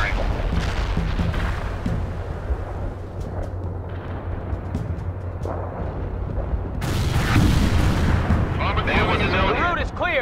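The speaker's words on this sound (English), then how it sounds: "Artillery firing." Artillery battery firing in World in Conflict, booming detonations and rumbling blasts in a dense barrage that swells louder toward the end, with voices over the combat.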